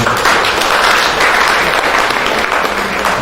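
At a Rotary club gathering, an audience gives loud, sustained applause for Nagesh, with thick, even clapping from a crowd filling the room and no break.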